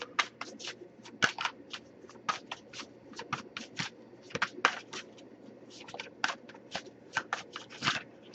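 Tarot cards are shuffled in quick, irregular bursts of crisp riffling and snapping, close and distinct against a quiet low hum.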